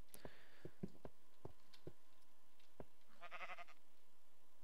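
Sheep in the game Minecraft bleat once with a short wavering cry amid soft scattered clicks and taps, quiet overall.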